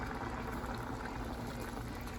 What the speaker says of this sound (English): My yellow rice over here boiling.